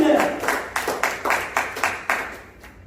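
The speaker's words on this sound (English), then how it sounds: "Give a big round of applause to this Jesus who is blameless, who is without sin." Congregation at a New Year's church service claps in a series of sharp, rhythmic bursts roughly every quarter second, fairly close and loud, fading near the end.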